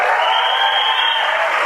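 A seated audience at a motivational talk claps loudly, a dense, continuous wash of applause holding steady for the whole stretch with no voices over it.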